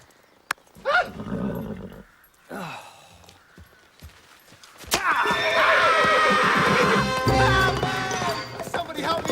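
A horse neighs and snorts among scattered breaths and short sounds, followed by a louder stretch of shrill whinnying and commotion in a dramatic outdoor scene.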